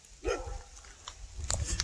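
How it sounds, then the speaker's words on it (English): A dog barks a few times from some distance at an abandoned outdoor site, short sharp yips with faint background noise between them. "We got a dog barking at us over there."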